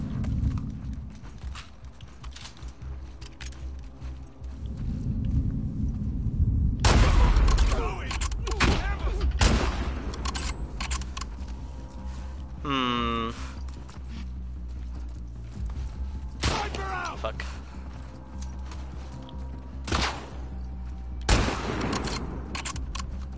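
Gunfire in The Last of Us Part 2 cracks out in scattered bursts, a sharp volley and several single shots spread between quieter game sounds, with speech in places.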